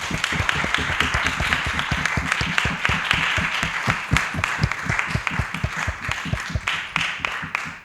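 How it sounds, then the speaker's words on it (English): Conference audience at an EU Succession Regulation event applauding, a loud, sustained burst of many hands clapping in a quick, dense rhythm that thins out and trails off near the end. "you deserve a loud applause"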